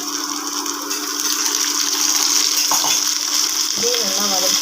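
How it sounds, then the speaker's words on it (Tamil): Tomatoes sauté in a pan for a snake gourd and moong dal kootu, a constant strong hiss and sizzle with a stir or two near the end and faint talk briefly underneath. "இதே நல்லா வதக்கிக்கணும்"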